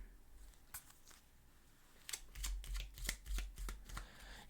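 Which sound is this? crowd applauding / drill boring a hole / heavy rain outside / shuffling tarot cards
shuffling tarot cards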